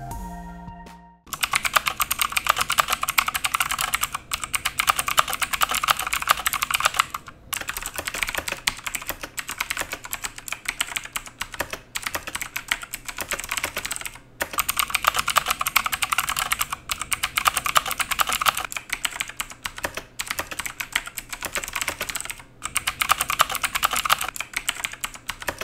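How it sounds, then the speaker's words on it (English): A Motospeed Inflictor CK104 mechanical keyboard with extra loud blue switches is typed on, a dense, continuous clatter of sharp clicky keystrokes close to the microphone, with a few brief pauses. "These are like extra loud blue switches."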